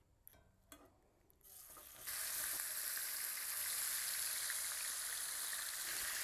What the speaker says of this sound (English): We're going to start searing these filets.